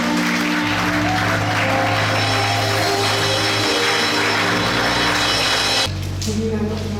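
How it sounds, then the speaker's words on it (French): A church congregation applauds at an anniversary service, loud dense clapping and cheering that fills the hall continuously, with music and voices mixed in, before it cuts to a quieter passage near the end. "On le reçoit sous vos acclamations."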